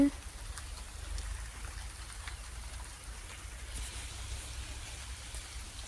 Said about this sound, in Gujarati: ઉપરના અઢી વાગ્યા ના વરસાદ ચાલુ છે હજી